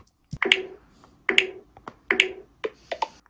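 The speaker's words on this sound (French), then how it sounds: "lorsque vous allez faire bouger trois doigts du bas vers le haut et lorsque VoiceOver est en action" An iPhone VoiceOver three-finger swipe sound on iOS 16.2: several sharp, bright electronic clicks and ticks in short bursts, separated by small gaps, close and clear with no voices.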